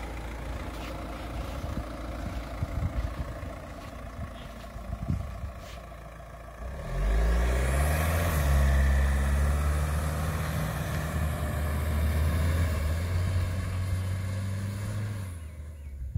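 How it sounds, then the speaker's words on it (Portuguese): A Fiat Toro Ultra pickup idles, then revs hard and pulls away from standstill on sand, the engine roaring loud and close before settling into a sustained drone. "Agora nós vamos fazer com a CR ligado, para ver a diferença do carro saindo."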